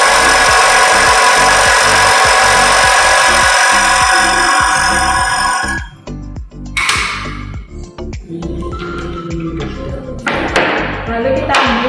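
A ticker timer in a school Newton's second law experiment ticks rapidly and steadily after its power supply is switched on, a dense repetitive tapping that starts loud, then drops and continues more irregularly with trolley thumps and some talk.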